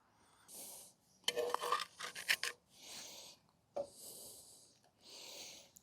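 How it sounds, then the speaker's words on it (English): Wooden shims being pushed in under an off-grid cabin base, rasping and scraping on gravel in several separate bursts, close, with breathy gaps between strokes. "I can hear it scraping the granulars"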